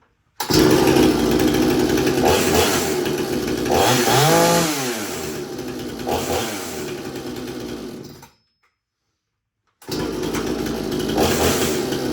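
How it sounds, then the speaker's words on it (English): A video-game chainsaw from Texas Chainsaw Massacre revs loudly in bursts with rising and falling pitch, cuts out into silence, then roars back. "That sounded like a 3D chainsaw."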